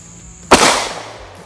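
A single loud gunshot from a CZ P10c pistol firing 115 grain Fiocchi ammunition, a sharp close crack with a brief decaying tail, alone without talk.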